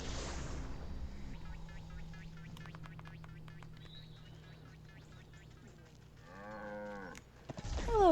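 A cow in the video game Wytchwood lets out a single drawn-out moo near the end, over a soft low hum and light scattered game sounds.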